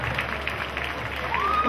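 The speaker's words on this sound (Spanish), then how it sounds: "y un aplauso" Applause for a mariachi band at a town fair, a dense wash of clapping from a crowd that continues steadily over indistinct voices and background murmur.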